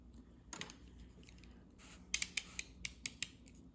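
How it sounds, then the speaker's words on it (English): Scissors trimming the edge of paper for a red toile scrapbook layout, a run of crisp close snips in quick succession after a quieter rustle. "I'm gonna trim off this little edge."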